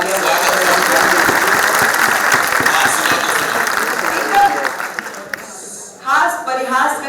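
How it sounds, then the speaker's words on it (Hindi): Audience applause at a poetry recitation event, dense steady clapping filling the first five seconds before fading, followed by someone speaking. "एक बार जोरदार तालियां बजाइए"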